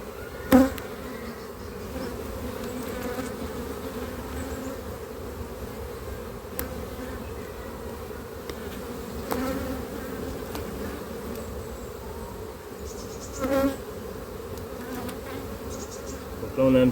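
Honeybees buzz steadily and densely around open hive frames, a close, constant drone with occasional louder passes near the microphone and faint handling knocks.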